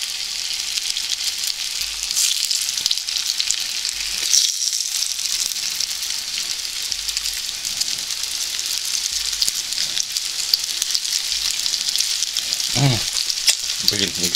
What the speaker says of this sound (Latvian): Te cepamē pelmiņu.